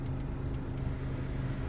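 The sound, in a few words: 2016 Honda Civic climate control fan running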